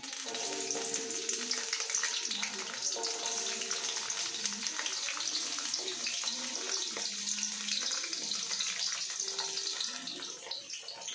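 Food sizzles and crackles steadily in a hot pan, a dense bright hiss with occasional stirring clinks, close and continuous throughout.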